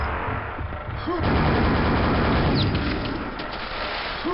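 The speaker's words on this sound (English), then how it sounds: "I just fire grenades from down below that grate" Grenades from a grenade launcher in the video game Quake burst in a dense, continuous barrage of loud, booming blasts and crackling debris that runs almost unbroken from start to finish.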